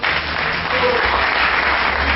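Wedding guests clap together during the ring ceremony, a loud, dense burst of applause that holds steady from start to finish.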